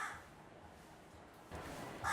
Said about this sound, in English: that irritating crow that keeps screaming